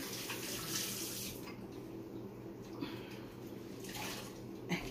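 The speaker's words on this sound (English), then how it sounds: "I'm going to wash my hands off here." Hands washed under a running kitchen tap, a quiet continuous splash of water with small shifts as the hands move through the stream, heard alone without talk.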